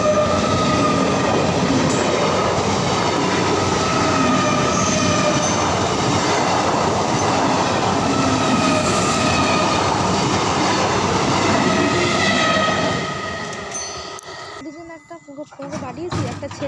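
A train on the Bandel to Howrah line in India rushes through a station with a loud, continuous rattling rumble and clatter that fades near the end, while people talk nearby.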